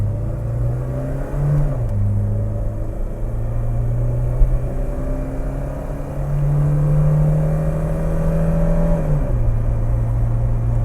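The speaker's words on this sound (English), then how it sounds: "Trans is shifting really good with that AMSOIL trans fluid too." A BMW with AMSOIL transmission fluid drives along with steady engine rumble, and the revs climb and drop clearly as the automatic transmission shifts through gears, close and loud with no talking.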